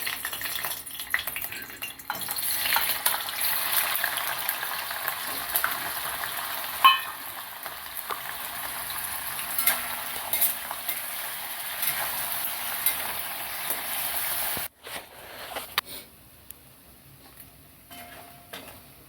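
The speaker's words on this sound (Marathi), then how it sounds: "आता मी पनीर तळते तळून म्हणजे गुलाबी रंग येईपर्यंत तळायचं" Paneer fries in hot oil, producing a steady crackling sizzle that fills most of the stretch, with occasional clinks of a utensil. It cuts off abruptly near the end and then returns more quietly.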